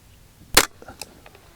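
A single sharp crack from a Ruger 10/22 rifle fired at a 75-yard target, loud and close, followed by a faint distant tick of the impact.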